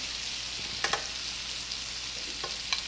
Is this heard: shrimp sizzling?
yes